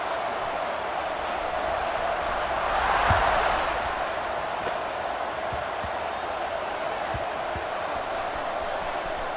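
A stadium crowd in a college football video game, Wisconsin against Georgia Tech, roars as a steady wash of noise that swells briefly near the start, then settles back to a constant loud murmur.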